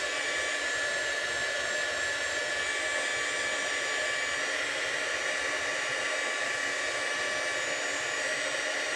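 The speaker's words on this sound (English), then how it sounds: "we're going to dry all of this so that we can move on to the next layer" A hair dryer drying a layer of paint on a painting runs as a steady, loud, continuous whoosh with an even motor hum, unbroken and alone for the full stretch.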